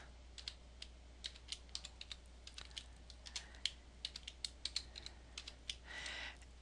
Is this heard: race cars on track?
no